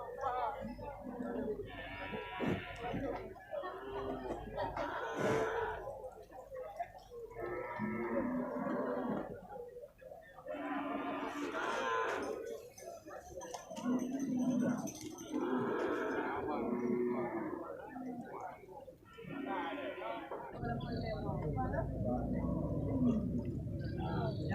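PO cattle low repeatedly at a busy livestock market in Geurugok, with drawn-out moos from several animals at varying distances amid crowd chatter and people talking nearby.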